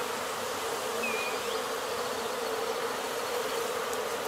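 Bees from a huge wild honeycomb being rescued and cut free from branches drone in a dense, steady buzz close by, with a few individual insects whining past the swarm.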